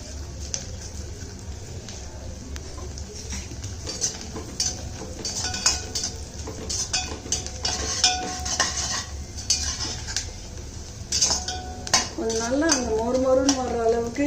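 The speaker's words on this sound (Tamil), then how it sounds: "இந்த அவலை நம்ம பொறிச்சுக்கிடலாம்" Beaten rice (aval) frying in oil in a pan for a poha mixture, busy clinking and scraping of a metal spoon against the pan under a faint sizzle, with some clatter of utensils and a brief voice near the end.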